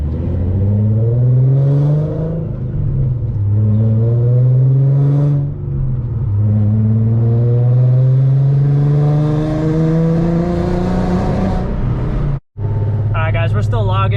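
A Nissan 370Z Nismo running a retuned race map accelerates steadily through the gears, its engine note climbing loud and close for most of the stretch. A brief gap comes near the end, with a voice talking over the engine throughout.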